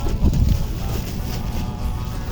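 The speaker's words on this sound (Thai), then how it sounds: "ลมแรง" A strong wind buffets the microphone outdoors in a watermelon field, giving a continuous rushing roar with gusty low thumps near the start, and no voices.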